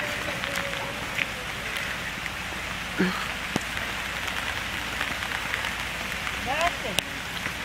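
Steady rain falls on a backyard pool in a leafy, jungle-like setting, a dense, even hiss of drops on the water and surroundings. A few brief faint knocks and chirps stand out over the constant patter.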